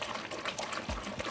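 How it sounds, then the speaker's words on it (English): A sanitised mash paddle stirs malt extract home brew, giving a soft, continuous sloshing and swirling of liquid with a few gentle thumps, quiet and close. "sanitise mash paddle, give it a really good stir to get it mixed up."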